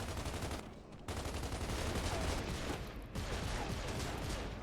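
Sustained gunfire in the video game Gears of War 3, dense rapid bursts filling the whole stretch with only brief dips, loud and close with no talk over it.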